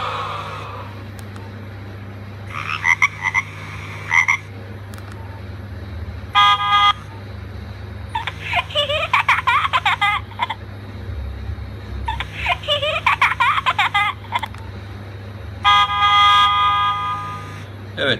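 Built-in ringtones play on a Nokia 1600 mobile phone, a series of short electronic bursts in turn, including a baby-voice tone, a car-horn tone and a frog-croak tone, each sounding alone over a faint steady hum.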